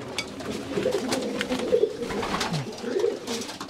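Racing pigeons cooing inside a Belgian loft, overlapping soft throaty coos and rolling calls from several birds nearby, with light fluttering and shuffling in between.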